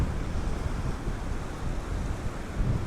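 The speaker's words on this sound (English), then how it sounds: "It's got that lull period between the big waves when there's not a lot happening." Ocean waves on the Orkney coast wash in as a steady, broad roar during a lull between big breakers, with wind noise buffeting the microphone throughout.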